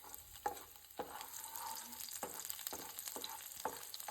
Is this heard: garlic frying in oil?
yes